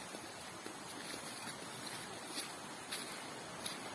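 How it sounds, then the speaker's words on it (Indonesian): A small river called Bah Toras flows in the Simalungun area with a steady, broad rushing wash. The sound is soft and continuous, without distinct splashes, and nobody speaks. "Jadi ini teman-teman sungai kecilnya namanya Bah Toras."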